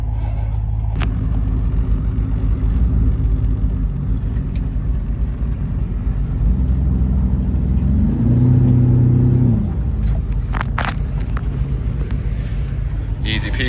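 A 2022 Sea-Doo Switch Compact Sport pontoon with a 170 hp engine drives onto its trailer, a loud, steady low engine rumble that swells briefly midway, with a person talking over it.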